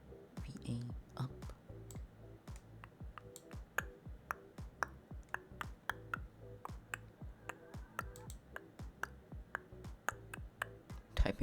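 Keyboard typing in the video game A Date With Death, a quiet, steady run of crisp clicks over a soft background hum.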